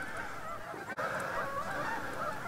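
Canada geese migrating south in a V formation overhead honk continuously in a dense, overlapping chorus of calls, moderately loud with no talking.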